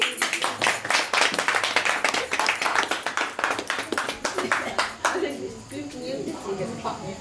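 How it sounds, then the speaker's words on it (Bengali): Wedding guests clapping in a steady rhythmic beat at a wedding function stage, loud and close, fading into a murmur of chatter and a speaking voice near the end. "সবাই একটু জোরে হাততালি"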